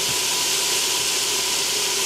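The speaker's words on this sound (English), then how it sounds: "sizzling up" A steady, loud hiss of food sizzling in a hot pan while cooking jambalaya, constant and close with no voices over it.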